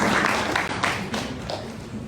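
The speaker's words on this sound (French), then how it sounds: "On peut applaudir Hugo Carlos." An audience at a youth political debate of eight party representatives at a university in Nîmes applauds a Young Communists representative, steady dense clapping throughout, fairly loud and close, with no speech over it.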